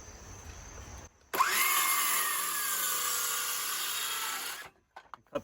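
A power saw with a rough-cutting, worn blade rips a straight line through a shelf board in a garage, one loud steady cut of about three seconds that starts abruptly and stops cleanly, with quiet before and a few faint knocks after.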